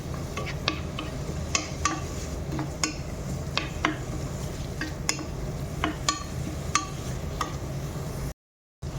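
Chopped onion stirred into hot butter in a pan, a soft steady sizzle broken by regular sharp clicks and scrapes of a spoon against the pan, close and alone.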